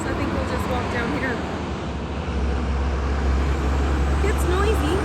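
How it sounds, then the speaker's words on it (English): Heavy trucks pass along a road in Costa Rica, a steady loud roar of traffic with low engine rumble building in the second half, nearby and continuous, with voices present under the noise. "It's noisy. Some noisy trucks."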